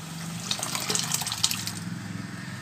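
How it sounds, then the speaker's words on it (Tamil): Cooked toor dal being poured into a pan of banana flower and drumstick leaf kootu, a soft wet splashing and sloshing of liquid lasting a few seconds, close and moderately quiet with no talk. "இப்போ பருப்பு சேர்த்துக்கலாம்."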